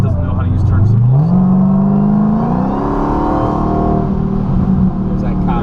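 A purple 1,000-horsepower Dodge Challenger Hellcat accelerates on the road, its loud engine drone climbing steadily in pitch and then holding a strong, even roar close by.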